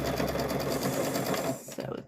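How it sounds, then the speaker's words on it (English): A sewing machine runs a straight stitch on a fabric microwave bowl koozie, a close, rapid, steady whir that stops abruptly near the end, followed by a brief clatter. "I just use a straight stitch on this"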